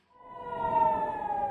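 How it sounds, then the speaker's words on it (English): Air raid siren in Haifa, northern Israel, wailing as a steady, sustained tone with layered harmonics that swells in over the first moment and holds loud on its own, with no voices. "air raid sirens early Sunday morning sent residents scurrying toward bomb shelters"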